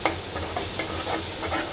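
Crushed local garlic frying in mustard oil in a pan, with a steady close sizzle and a few scraping stirs at irregular intervals, and no talking.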